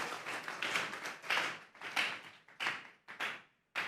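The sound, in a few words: congregation clapping hands in church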